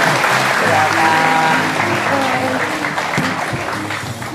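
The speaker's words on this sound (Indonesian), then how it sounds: "Silakan tepuk tangan" Studio audience applause on an Indonesian television talk show, loud and sustained with a tonal music bed underneath and a brief spoken word from the host, fading slightly toward the end.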